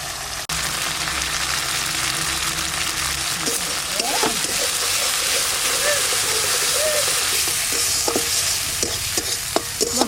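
Spice paste frying in a pan for pomfret curry, a steady loud sizzle running throughout, with occasional scrapes and taps of stirring and faint voices in the background.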